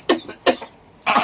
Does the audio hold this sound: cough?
yes